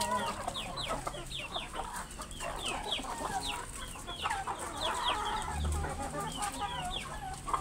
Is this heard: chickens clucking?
yes